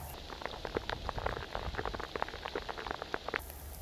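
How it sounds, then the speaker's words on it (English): Steady rain falling in very wet woods, with dense close patters and drips hitting leaves and surfaces over a continuous wash, no talking. "welcome back to a very, very wet woods"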